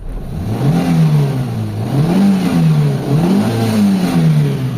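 A Mitsubishi Lancer GLXi with major engine trouble, its engine revved repeatedly as the gas pedal is pressed, rising and falling in loud, close, rhythmic surges.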